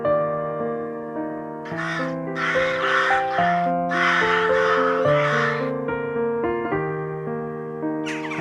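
Crows caw in spring, several harsh calls in bursts over a bed of sustained music.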